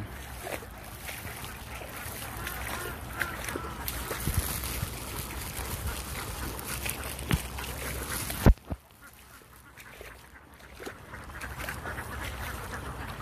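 Ducks quack and honk in the Vietnamese countryside, where eggs are being gathered among harvested rice fields. A continuous flock chatter runs under a boat motor, with a sharp knock partway through.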